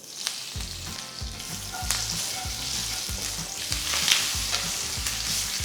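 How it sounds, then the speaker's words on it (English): Mustard seeds sputter and pop in hot oil in a pan for a masala dosa potato filling, a steady close sizzle with scattered sharp crackles and rhythmic low thumps underneath, and no one talking. "Once the mustard seeds start splattering, add half teaspoon of hing or ASAFOETIDA powder, a few curry leaves"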